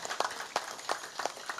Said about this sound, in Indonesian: Nyun sewu tepuk tangan kagem warga masyarakat